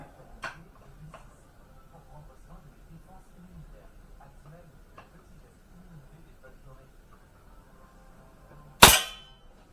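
An air rifle fires a single pellet near the end as one sharp, loud crack, after a long quiet stretch of faint ticks and soft murmuring room noise.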